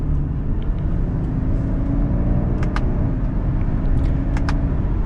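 A 2022 Subaru Outback Wilderness with a CVT drives along with a steady engine and road rumble inside the cabin, and a few faint clicks occur as the paddles are used to shift.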